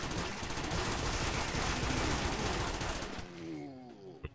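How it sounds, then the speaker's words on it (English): Continuous rapid gunfire with fire bullets in Crimsonland roars steadily for about three seconds, then breaks off into a fading, crackling tail with one sharp pop near the end. "Shooting drains your health."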